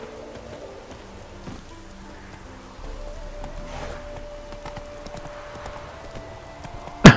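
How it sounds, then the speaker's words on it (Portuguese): Horse hooves clip-clop in The Witcher 3: Wild Hunt's Hearts of Stone expansion, a steady, moderately quiet trot with faint ambient game sound around it and a sharp burst at the very end. "Olha lá, o cavalo não corre, não."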